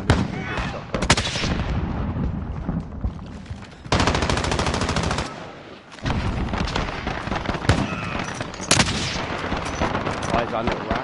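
Gunfire in the video game Warzone: dense, loud bursts of automatic shots and blasts fill the whole span, with sharp cracks standing out over a continuous busy backdrop.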